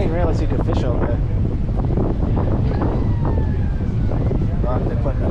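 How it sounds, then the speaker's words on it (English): A siren sounds for a drawbridge being raised near a deep-sea fishing boat, a rising wail heard under heavy wind buffeting and people talking close by. "I heard the siren go."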